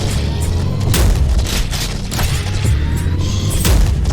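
Charged incendiary shotgun blasts from the Prodeus video game boom heavily and loudly, with repeated rumbling bursts and a dense fiery roar that fills the whole stretch, and no talk.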